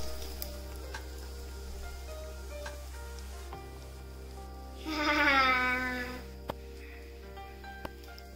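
Dosa made from curd and rice flour hissing and sizzling on a hot pan as it is turned over, a brief louder burst of frying noise in the middle against a steady low hum.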